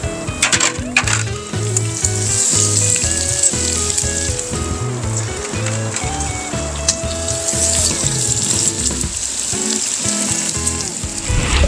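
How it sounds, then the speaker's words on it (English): Onions cooking on a griddle for bacon smash burgers, a continuous loud sizzle and crackle close up, with irregular scraping and tapping throughout, no talking. "we're going to cook the onions in here, because with the smash burgers and saute onions is going to be really good"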